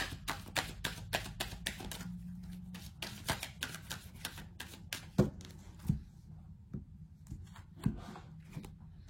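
Tarot cards riffle and snap in a fast run of crisp, close flicks, then slow to a few separate slaps and taps as single cards are drawn and laid down, quiet and without talk.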